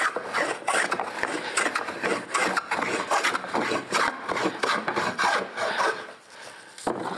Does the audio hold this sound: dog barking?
no